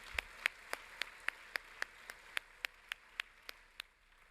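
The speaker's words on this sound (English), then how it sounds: "Let's do it one more clap." A single steady clap repeats about every quarter second at a university first-year orientation welcome in a tent, a slow, evenly spaced rhythm of fairly faint, distinct claps with little else around them.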